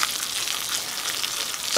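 Yellow wax beans boil in a pot of water, giving a dense, steady bubbling hiss with no break and no voices.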